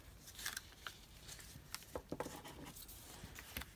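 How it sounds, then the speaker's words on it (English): Scissors snipping through paper while trimming a rose-themed altered envelope down to size, giving a series of short, crisp close cuts with small pauses between them. "I'll use my scissors."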